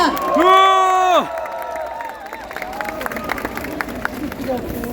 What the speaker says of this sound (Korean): 뜨거운 환영의 박수를 부탁드리겠습니다